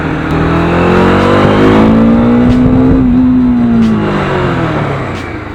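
A Bajaj Dominar 400 motorcycle engine revs hard under the throttle, the loud pitch climbing, holding high, then sliding down again as it settles, close and alone without talk.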